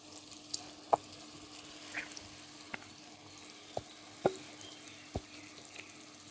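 Squeezed-out animal brain frying in a pan gives a faint, quiet sizzle punctuated by scattered sharp pops and clicks, with no talking.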